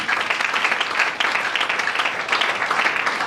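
Church congregation applauding, a dense steady wash of many hands clapping close and loud, continuous throughout with slight swells.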